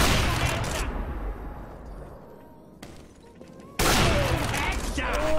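Counter-Strike: Global Offensive gunfire, loud rapid bursts of shots in two dense stretches with a quieter gap between, up close, with excited speech over it.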